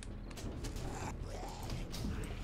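A door in the survival game 7 Days To Die creaks shut with a drawn-out, close wooden groan and mechanical squeak, heard alone without speech.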